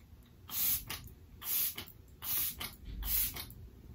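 A hydrating face mist, not a setting spray, is sprayed all over the face in four close, evenly spaced hissing bursts with short pauses between them, and no talking.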